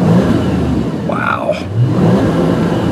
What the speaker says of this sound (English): I want you to hear the engine a little bit. Hear this 520 horsepower engine.